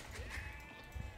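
Sheep bleat faintly in a medieval strategy game, a couple of short wavering calls over a low rumbling background, quiet and without voices.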